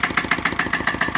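A diesel engine on an Ammann AR65 roller idles steadily, throwing out a quick, even pulsing beat with a rattly edge, close and fairly loud with no talk over it.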